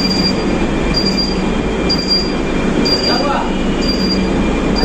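Kolkata East-West Metro train at Kavi Sukanta station, a steady loud rumble of rolling rail cars with intermittent wheel squeal and high whine, continuous and close.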